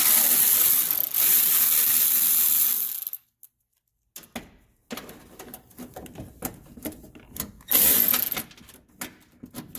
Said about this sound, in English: Basically, I'm just taking these bolts out.